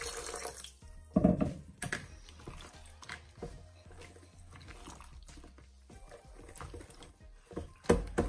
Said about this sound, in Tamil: தண்ணி சேர்க்கலாம்.